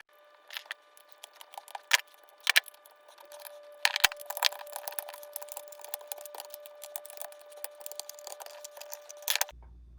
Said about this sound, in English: So let's cut it open.